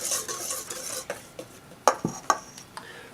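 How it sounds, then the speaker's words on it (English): A wire whisk stirs dry ingredients in a bowl, giving soft brushing swishes and a few sharp clinks against the bowl's side, close and with no talking. "Now just take the wire whisk, mix this up really good."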